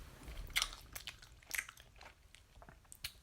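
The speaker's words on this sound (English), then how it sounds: "My subscribers have to hear me chew. Like chewing sounds." Someone chews crunchy food close to the microphone, with quiet, irregular bites and crunches over a few seconds and no talking.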